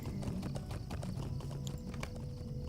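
A horse in a video game, with rhythmic clip-clop hoofbeats over a low rumbling background and a brief whinny-like tone, moderately quiet and continuous throughout.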